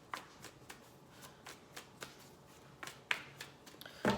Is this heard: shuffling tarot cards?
yes